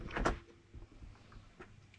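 The door of a Furrion propane oven being installed in an RV swings open, giving a sharp close clunk, then quiet handling rustle and a second softer knock, with no voices.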